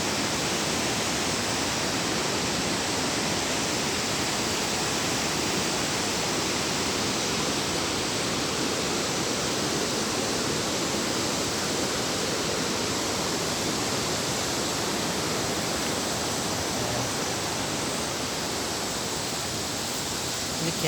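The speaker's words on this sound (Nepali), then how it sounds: "यो यहाँ देख्न सक्नुहुन्छ खोला फल्स कति मजाको फल्स आइरहेको छ" A waterfall on a river in Dikchu, Sikkim pours with a constant, dense roaring rush that stays loud and even throughout, with no pauses.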